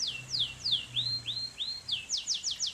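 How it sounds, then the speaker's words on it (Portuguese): A bird gives a series of short, high-pitched chirps in quick succession, several descending tweets then a faster run of calls, faint and close, with no talking. "Foram vários sons curtos e agudos, fraquinhos, cantados por um pássaro"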